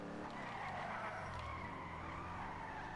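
A Pisswasser Dominator car drifting in GTA V, tires skidding and squealing continuously over a droning engine, the screech sustained for the whole stretch with no talk, moderately quiet in level.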